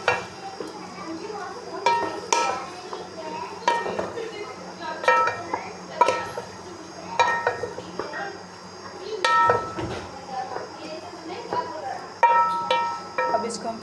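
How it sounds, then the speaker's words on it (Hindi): Capsicum and potatoes stirred in a pan with a utensil, giving repeated light scraping clinks and soft clatter against the metal at an irregular rhythm, with a faint background sizzle. "इसमें ऐड करेंगे शिमला मिर्च, इसको अच्छी तरह करेंगे मिक्स"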